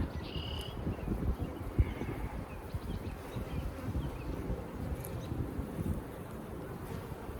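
A steady low buzzing of many honeybees at an open hive during inspection, a continuous droning hum close by, with occasional brief louder passes.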